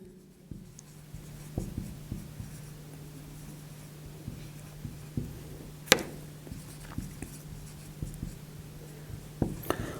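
Scratchy strokes of writing on a board, a series of short taps and scrapes at close range with one louder squeak midway, over a low steady hum and no talk.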